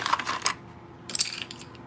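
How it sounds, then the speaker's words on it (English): Colored pencils clatter as they are gathered and dropped into a box, two short bursts of light wooden clicks and rattles separated by a quiet gap, close by with no voices. "colored pencils back in this box because they're rolling everywhere."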